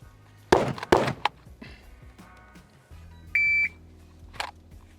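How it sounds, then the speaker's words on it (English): Electronic shot timer beep during concealed carry draw drills, a short steady tone near the middle, followed by a sharp crack; other brief thumps and bangs come before it. "that beep's gonna go off"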